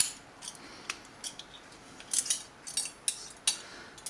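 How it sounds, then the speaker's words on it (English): Pieces of a German Bundeswehr cutlery kit are handled, giving faint, scattered metallic clinks and light scrapes that come irregularly and grow slightly busier toward the end, in a quiet room without talk. "this is a Bundeswehr cutlery kit"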